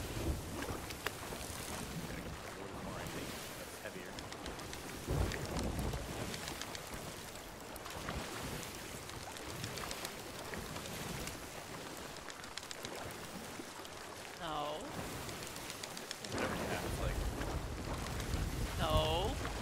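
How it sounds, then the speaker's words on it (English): A storm at sea in the pirate game Sea of Thieves brings steady, dense rain and wind that roar without a break around a sailing ship, with heavy low rumbles rolling underneath. "We're in the storm again."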